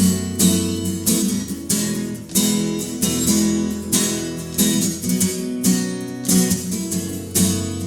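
An acoustic guitar strums a song's chords hard in a steady down-up pattern, loud and close, with chord changes and no talking.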